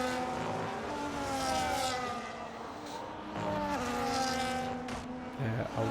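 Onboard F1 car engine from F1 25 at Australia, a continuous loud buzzing whine with stepped pitch shifts through gear changes, running throughout without talk.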